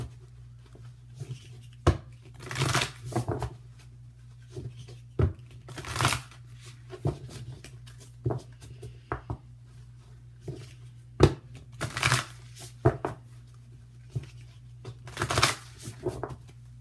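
Whispers of Love oracle cards are shuffled by hand in repeated riffling, slapping bursts, close and fairly quiet over a steady low hum.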